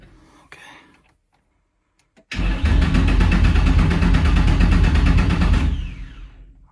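A Nissan 350z cranks and starts after a quiet pause with a few faint clicks, then a loud, steady engine roar holds for about three seconds before easing off.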